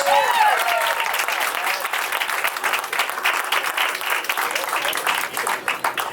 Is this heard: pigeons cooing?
no